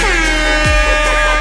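A loud, blaring air horn sounds as a short, sustained blast with a rough, brassy tone, standing alone with no voices.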